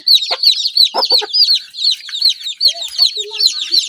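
Rapid, close-up clucking and high cheeping from hens and newly hatched chicks on a poultry farm, a busy run of short calls with a few faint low sounds in between.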